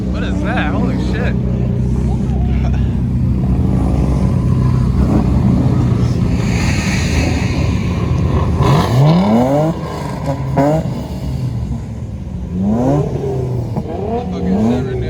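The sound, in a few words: car engine revving at an underground car meet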